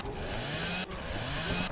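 A chainsaw revs in the video game Dead Island: Riptide, a buzzing motor drone with a brief drop in the middle, fairly quiet and with no talk.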